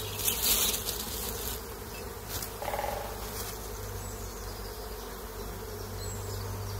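Agitated honeybees swarm noisily inside a beehive as a small nucleus hive is transferred into it, a dense, continuous buzz holding steady close by with no voices.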